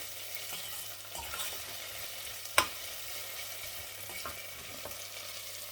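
Tomato paste sizzles softly in a pan while a utensil stirs and scrapes through it, with one sharp clink against the pan midway.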